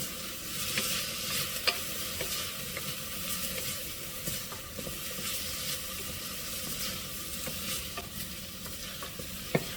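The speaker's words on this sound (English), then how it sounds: "Add the garlic. And the garlic will cook up fast." Garlic sizzles in a pan at moderate volume with a soft continuous hiss, while scattered clinks and scrapes of a utensil stirring recur throughout. No one speaks.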